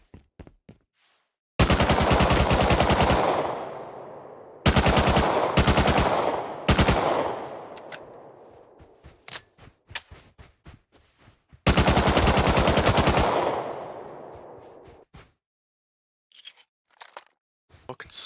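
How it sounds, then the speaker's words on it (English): AK rifles fire in bursts in the console survival game Rust, with loud sustained automatic strings broken by single shots and gaps, alternating with quieter clicks and footsteps. "Oh, those are fucking AKs"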